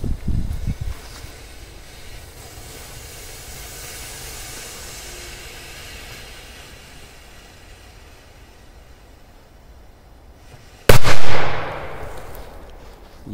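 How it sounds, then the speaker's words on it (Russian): After a long stretch of faint outdoor ambience, a single sharp, loud large-firecracker blast bursts out near the end and decays with a hissing tail. "Есть взрыв, можно подходить."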